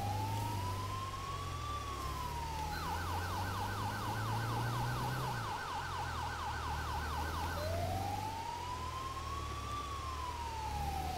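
An ambulance siren in the video game GTA 5 cycles between a rising-falling wail and a rapid yelp, steady and fairly loud over a low engine drone, with no talking.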